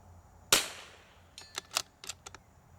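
One sharp .22 LR rifle shot fires close by at a steel plate 150 yards away and fades into a brief decay. A flurry of lighter clicks follows, likely handling of the rifle.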